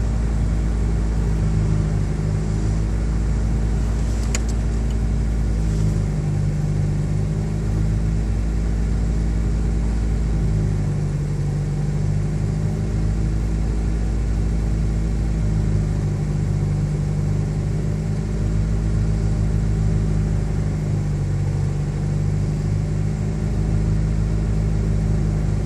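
A 1989 Geo Tracker engine idles hot at a low steady rumble, continuous and close throughout, with slight rhythmic throbbing and small fluctuations in pitch.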